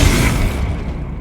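A fire spell from the Hogwarts Legacy video game bursts with a loud, dense whooshing roar of flame that fades within about a second.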